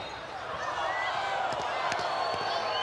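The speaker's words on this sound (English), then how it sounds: "the crowd are far from happy with that decision" Crowd at a women's World Cup field hockey match between the Netherlands and Italy, a steady broad roar of spectators with scattered whistles and jeers rising through, continuous and fairly loud throughout.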